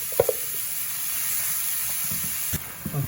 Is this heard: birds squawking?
no